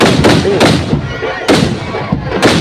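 Firecrackers going off at a temple festival for the goddess Kaliamman, loud close bursts repeating every half second or so over a dense, smoky roar of continuous crackling.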